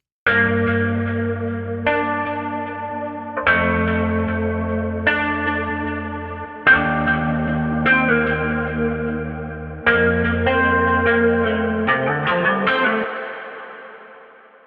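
Heavily reverberant synth chords played through a reverb effect in Maschine, sustained tones swelling and washing out with long echoing tails, loud and steady before fading at the end, with no voice.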